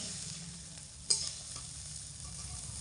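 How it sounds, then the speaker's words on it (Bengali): Rice and dal frying with spices over medium heat for khichuri, a soft steady sizzle with one sharp clink of a spoon against the pan as it is stirred, no talking. "চাল ডাল একসঙ্গে মশলার সঙ্গে ভালো করে কষিয়ে নেব মিডিয়াম আঁচে রেখে অনবরত নাড়াচাড়া করে 5 মিনিট মতো কষিয়ে নিয়েছি"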